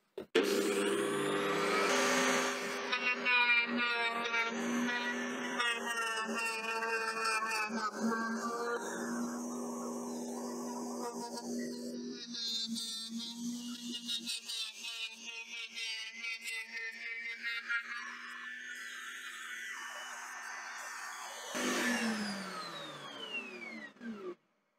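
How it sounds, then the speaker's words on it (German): A router table spins a cutter steadily as a round wooden dowel is fed slowly in and turned to mill a tenon, the whine shifting in pitch as the cut progresses, close and continuous before spinning down. "Und jetzt schalte ich es ein und schiebe das. Halte den Rundstab nach unten und schiebe das langsam drüber und drehe das in den Fräser rein."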